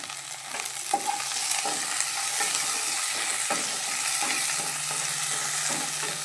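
Curry leaves crackle and sizzle in hot oil for a prawn and drumstick curry, a steady close frying hiss with a low hum beneath and intermittent stirring scrapes, no voices.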